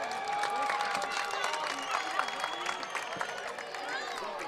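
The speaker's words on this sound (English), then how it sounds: "And Vacaville's fans obviously upset about that, booing the referee." A high school football crowd at an Enterprise versus Vacaville game boos the referee, a continuous mass of jeering voices that swells and wavers, heard from a distance with a commentator talking over it.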